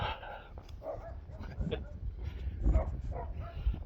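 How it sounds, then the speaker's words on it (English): A small dog barks and yips in a few short bursts outdoors on a walk past a house, fairly close, with a person talking over and between the barks. "Beware the dog indeed."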